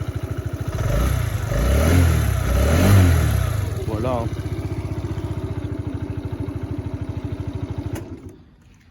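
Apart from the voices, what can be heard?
Peugeot Kisbee 4T scooter four-stroke engine running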